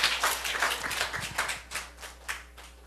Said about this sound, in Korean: 그렇게 해줄 하나님께 박수 올려드릴게요